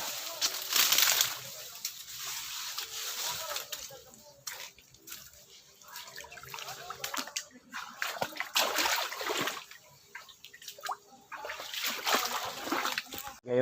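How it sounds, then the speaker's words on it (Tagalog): People wade across a river, sending up irregular splashes and sloshing water that rise and fall in bursts, with people talking and calling out over the splashing throughout. "Tawid na kami ngayon."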